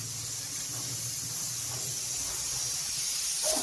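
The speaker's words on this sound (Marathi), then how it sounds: "आता हे जे मिक्सरला वाटून घेतले ना आपण, हे आता फोडणीत घालून घ्यायचंय." Blended tomato puree hitting hot tempering for tomato soup, giving a steady loud hiss and sizzle that runs through the whole moment, close and with no talk.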